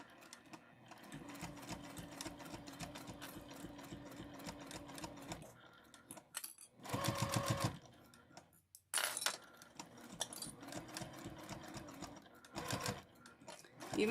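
A sewing machine stitching slowly over a nylon zipper on a heart-shaped pouch, with a steady rapid needle chatter, a couple of louder clunks and pauses, then stitching resumes.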